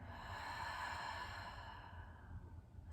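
A long, audible breath pushes out through the mouth during a yoga flow, a soft, airy whoosh that tapers away over a couple of seconds, close and quiet.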